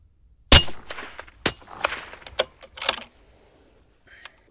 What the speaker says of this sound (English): Let's shoot one last 3-shot group here.